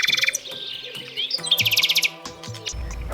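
A nightingale sings a rich, varied phrase of whistles, trills and rapid repeated chirps, loud and close, each motif changing quickly across a few seconds with no voices.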